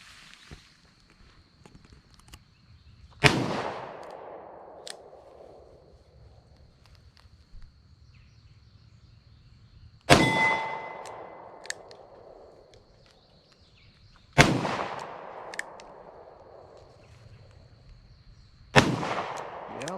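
Four loud, sharp shots from a Rock Island .38 Special revolver fired single action at a 12-yard target, spaced several seconds apart, each with a decaying echo and faint ambient noise between.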